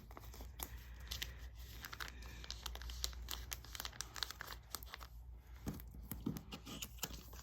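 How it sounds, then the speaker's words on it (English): Stiff blackout cards slide and rustle as they are tucked into the bottom of a photocard binder, giving soft crinkling, plastic-sleeve crackles and light taps throughout, close and quiet, with no talking. "we're just going to put these blackout cards here at the bottom"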